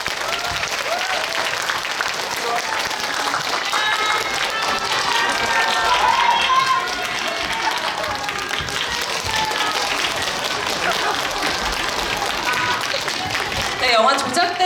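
A cinema audience at CGV Apgujeong gives loud, sustained applause as the actors and director of the film Fabricated City leave the stage, dense continuous clapping with crowd noise mixed in.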